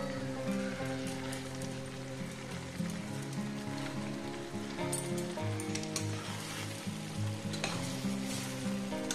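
Bottle gourd and shrimp frying in a pan with ghee, green chilli and garam masala, a loud continuous sizzle with stirring scrapes throughout and no voices.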